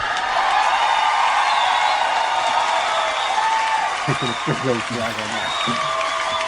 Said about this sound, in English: Are they clapping because they know the joke